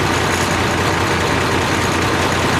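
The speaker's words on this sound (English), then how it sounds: "Definitely a parade tractor." A parade tractor with flashing lights runs nearby at a show, its engine a loud, steady, low idling rumble that holds constant without letting up, with no talk over it.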